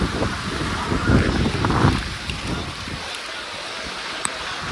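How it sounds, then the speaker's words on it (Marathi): Heavy rain pours steadily over a tomato field, a dense, loud hiss with gusty, roaring surges early on that settle into a softer, even wash, with no talking. "जाम पाऊस आलाय जाम"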